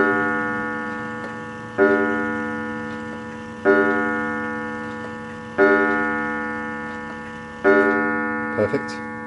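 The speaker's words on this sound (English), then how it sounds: "you need to hear the chiming, so let's put it to the 5 o'clock" A 1940s Hermle 8-day German Art Deco chiming clock strikes five o'clock: five loud, resonant gong-like strikes spaced about two seconds apart, each ringing out and decaying, with a soft click at the end.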